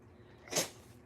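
A single sneeze bursts out once, sharp and brief, against a quiet room background.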